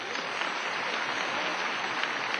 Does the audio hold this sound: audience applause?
yes